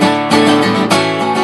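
An electric guitar plays the opening chords of the chorus of a song, a sustained, ringing chord that changes to a new strum partway through, loud and alone.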